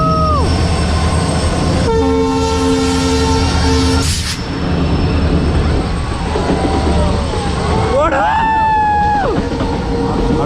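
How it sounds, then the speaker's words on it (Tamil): A passenger train near Dudhsagar waterfalls rumbles past loud and close, blowing a long steady horn and later a second bending horn blast, with rail noise throughout and people speaking over it. "Passenger train."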